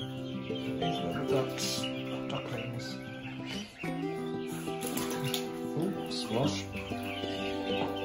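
Hens clucking and calling around a farm, with overlapping bird voices and farmyard background noise throughout and people talking nearby.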